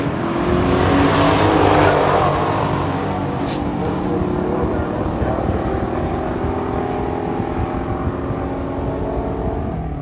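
A 1971 AMC Hornet SC360 muscle car roars at a pure stock drag race, its loud engine note rising through the gears as it pulls away down the strip.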